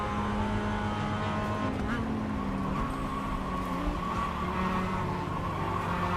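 Mazda MX-5 race car in the iRacing simulator, its engine droning steadily at a constant pitch with a brief rising rev, a faint tire squeal and a talking voice over a dense background.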